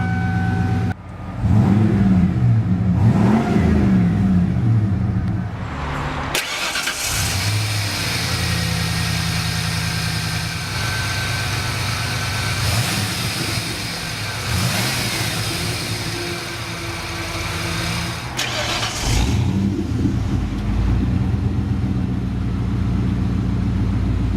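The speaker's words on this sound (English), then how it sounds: "Beautiful exhaust note." A 1994 Ford F-150 XLT pickup's 5.0 V8 exhaust rumbles loudly, revving up several times between stretches of deep idling, heard close and alone for a long stretch.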